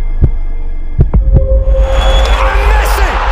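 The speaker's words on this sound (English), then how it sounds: "A breath, a heartbeat." A heartbeat sound effect from a documentary about Lionel Messi at the 2022 FIFA World Cup: a few deep, loud thumps, some in quick pairs, then a swelling droning wash of sound takes over.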